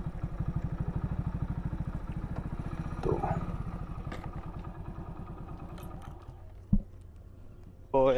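Motorcycle being parked at the side of the road at an ancient archaeological site, its engine putting close by at a steady idle with a clatter and thump partway through, then dying down before a final knock.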